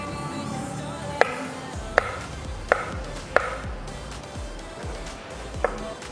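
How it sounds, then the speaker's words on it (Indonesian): A knife chops surimi into small pieces on a board, about six sharp, evenly spaced cuts standing out clearly over quiet room sound, with no one talking. "Terus mau saya potong-potong ukurannya lebih kecil aja. Jadi tinggal dipotong-potong just like this."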